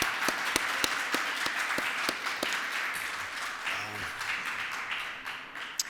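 Audience applause at a games industry conference, a crowd clapping steadily at moderate volume with a few sharp, distinct claps standing out near the start before the applause thins slightly toward the end.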